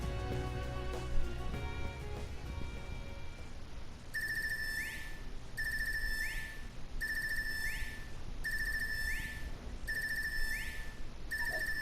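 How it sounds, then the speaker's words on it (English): A phone ringtone from the video game Trails of Cold Steel III sounds over soft background music, a repeating electronic ring pattern beeping in regular bursts about once a second for several seconds. "Better get up and answer your phone, Reen."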